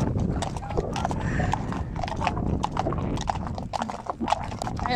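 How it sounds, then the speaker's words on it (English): Friesian horses walk along a sandy beach, their hooves clip-clopping in a steady, close rhythm with a faint voice now and then. "And the horses like it."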